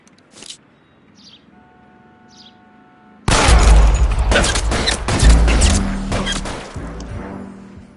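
Sudden burst of gunshots and crashing impacts in the 1940s Los Angeles police game L.A. Noire, loud and close, following a quiet stretch with faint chirps and a short tone, then sustained rapid firing and heavy thuds.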